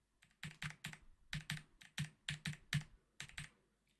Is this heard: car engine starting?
no